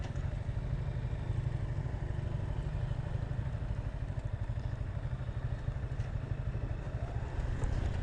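A Yamaha XSR155 motorcycle rides over a rough road in Bali, its engine a steady low drone with rattling clatter from the bumpy surface, constant and close throughout with no speech.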